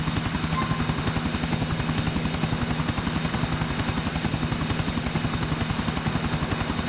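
A helicopter flying in the video game GTA IV, with the rotor giving a loud, steady, rapid chopping pulse that runs continuously with no speech over it.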